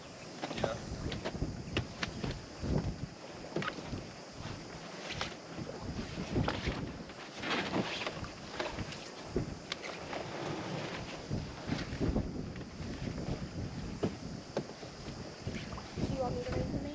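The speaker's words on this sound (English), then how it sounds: "we're gonna sail off anchor" Sailboat getting under way off anchor in open wind, with gusty microphone wind noise, water sloshing and scattered clanks and rustles of deck work throughout.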